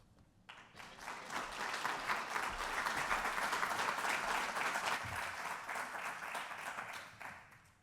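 Audience applause at a lecture on Carmen de Burgos and modern criticism, a steady sustained ovation from a seated crowd rising after a moment, holding evenly for several seconds, then tapering off, with no talking.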